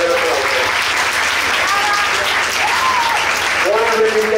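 Sustained applause from an audience at a bookstore presentation of Joel Dicker's novel, greeting the book's translator, with a voice speaking over the steady clapping.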